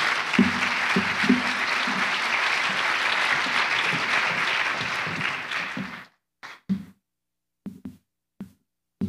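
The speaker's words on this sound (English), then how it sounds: "So if you'd please join me in a round of applause and welcome Clint Nagel to the stage." An audience claps loudly and steadily to welcome a speaker to the stage at an evening talk on grizzly bears, then the applause stops abruptly and a few faint thumps and footsteps follow.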